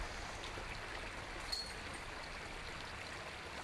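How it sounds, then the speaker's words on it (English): A creek rushes in a continuous, faint hiss at the Nockamixon disc golf course, steady and distant with no voices. "You can hear the water roaring in the background there"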